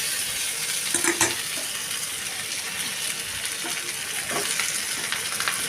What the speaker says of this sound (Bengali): আমি আলু আর পেঁয়াজ আর গাজর একসাথে ভালো করে নাড়াচাড়া করে প্রথমে ভেজে নেব